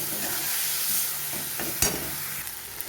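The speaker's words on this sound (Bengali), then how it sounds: "এবারে গুঁড়ো মশলাগুলো দিয়ে দেবো সমস্ত, সব ভালো করে এবারে কষিয়ে নেব যাতে কাঁচা গন্ধটা না থাকে।" Ground spices sautéing in oil in a pan for a banana-stem curry, a soft continuous sizzle with a few light scrapes and taps of a spoon stirring, close and fairly quiet, with no talk.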